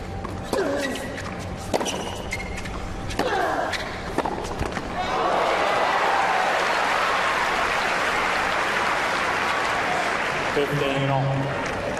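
Crowd at a 2004 Miami tennis match between Nadal and Federer, with a few sharp ball strikes and thuds before loud, sustained applause and cheering swell up and fill the rest of the stretch.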